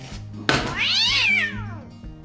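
A cat gives one clear, drawn-out meow that rises and falls, close and fairly loud over a faint background hum.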